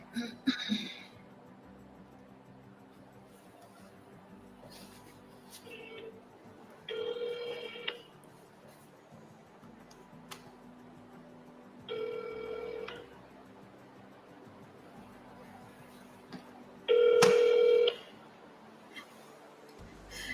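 A phone call is dialed and then rings, with repeated ringback tones spaced a few seconds apart. A voice can be heard faintly between the rings.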